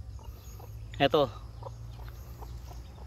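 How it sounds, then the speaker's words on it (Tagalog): A neighbor's chicken gives a single short cluck close by, set against a quiet, steady background, while a voice speaks briefly. "Ito ay manok ng kapitbahay."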